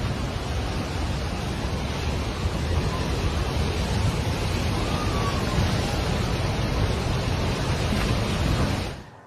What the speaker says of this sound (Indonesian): Arus deras air bah banjir bandang turun dengan volume besar dan sangat cepat dari pegunungan Himalaya